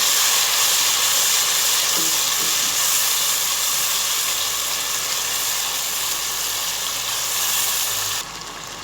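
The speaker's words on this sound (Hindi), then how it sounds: "अब दही डालकर भी भूनेंगे।" Masala sizzling and frying in a pan with a few spoonfuls of yogurt added, for a beef chana dal gosht curry; a steady, loud broadband hiss runs throughout and drops slightly near the end.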